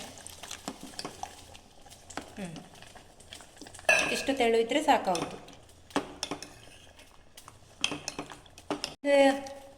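Water being stirred into a jackfruit batter in a pot, with a spoon scraping and clinking against the metal in irregular bursts, close by, with a voice speaking between the stirring.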